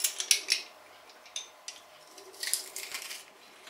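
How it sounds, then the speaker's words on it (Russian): Garlic squeezed through a garlic press for a festive New Year salad, a few sharp metallic clicks and crunchy squelches in quick bursts, close and faint. "Остался чеснок. Выдавливаем его через пресс."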